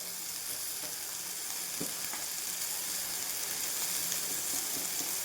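Potato pieces frying in a pan give off a steady, close sizzle that holds evenly throughout, with a faint stir or two and no voices.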